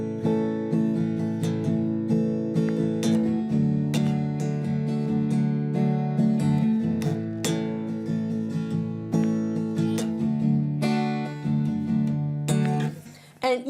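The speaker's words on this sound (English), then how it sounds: "we have a nice 16th note strumming pattern we're going to be doing." Acoustic guitar playing a sixteenth-note strumming pattern, with bass notes accented on the down strums, steady and close, played alone without talk.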